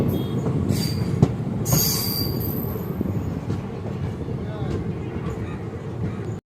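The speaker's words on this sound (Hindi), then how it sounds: "हमारी ट्रेन अब बावड़ा स्टेशन पहुंच चुकी है" A train on the Ahmedabad–Botad line, where electrification work is under way, rolls into Bawda station with a loud, close rumble of wheels, sharp squeals and knocks, heard continuously until it cuts off.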